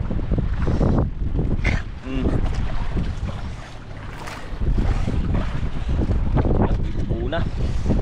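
Wind blows over open water and buffets the microphone on a small fishing boat, a loud constant roar with people talking throughout.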